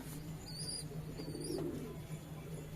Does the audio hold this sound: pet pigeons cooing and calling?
yes